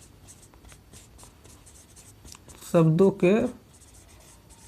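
Light, quick scratching strokes of writing on a board during a Hindi-language lecture, running steadily in the background while a voice speaks briefly partway through.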